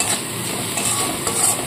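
A spoon scrapes and stirs ground coriander, turmeric, Kashmiri chili powder and salt into a lentil mixture in a pan, with a soft continuous scraping and faint sizzling close by.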